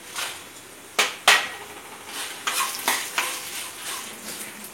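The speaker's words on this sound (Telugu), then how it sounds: "అల్లం ముక్కలు కొంచెం వేగినాయి కదా, ఎండుమిర్చి వేసుకోవాలి." Ginger pieces and dried red chillies fry in a pan for ginger chutney, a close crackling sizzle broken by sharp clanks and scrapes of a spatula against the metal, with no speech.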